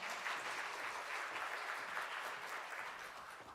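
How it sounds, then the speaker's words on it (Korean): A crowd at a church lecture claps steadily and fairly loudly, a dense wash of applause that tapers slightly toward the end. "여러분 큰 박수로 박영배 회장님 단에 모시겠습니다."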